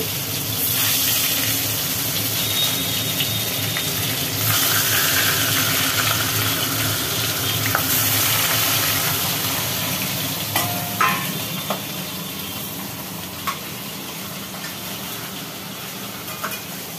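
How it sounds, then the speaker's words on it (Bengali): Rohu fish pieces frying in very hot oil in a pan, a loud continuous close sizzle with occasional sharper spits and light scraping, no voices. "প্রথমে মাছগুলো ভেজে নিই"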